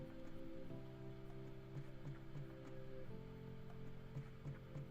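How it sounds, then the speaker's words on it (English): A rain effect of steady, fine patter covering the ground and vehicles, with faint ticking drops and a low, constant tonal hum running underneath. "I added rain to the ground. The rain is not only hitting the ground, it's also hitting the vehicles"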